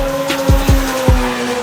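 A Mazda RX-7 drift car at a Drift Masters event, with engine harmonics and three quick sharp tire chirps or shifts in rapid succession, loud and close.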